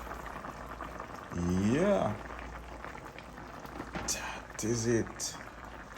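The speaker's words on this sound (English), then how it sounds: "see the pot boiling up now" Pot of coconut milk boiling for Jamaican-style steamed fish, a steady low bubbling simmer running throughout beneath a woman's speech.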